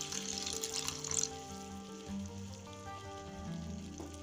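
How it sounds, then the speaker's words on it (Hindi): Water poured into a sizzling cabbage Manchurian sauce in a hot pan, giving a bright spattering fizz that sputters loudest early and then eases into a steady crackling simmer. "थोड़ा सा पानी डाल देंगे।"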